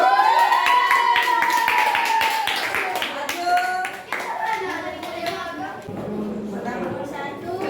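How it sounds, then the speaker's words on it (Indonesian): Classroom children clap together for a group, a burst of fast hand claps that thins out, with a teacher's and kids' voices speaking over and between the claps. "Tepuk tangan untuk kelompok 1."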